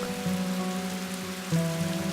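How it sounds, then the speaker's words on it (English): Monsoon rain falls in India, a steady close hiss of drops on surfaces with a faint low tonal hum beneath and no voices. "The rain brings so much along."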